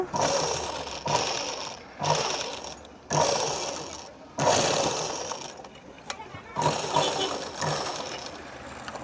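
A sewing machine stitches the lining of a Punjabi dress in several short whirring bursts separated by brief pauses, close and fairly loud.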